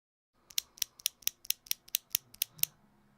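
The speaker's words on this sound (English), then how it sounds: "These are unlubed Tealios switches. I don't believe they have lube on them already, but you can probably hear them if I pause the music." Unlubed Tealios linear mechanical keyboard switches are pressed in a steady series of about ten crisp, clacky keystrokes, evenly spaced and close, in a quiet room.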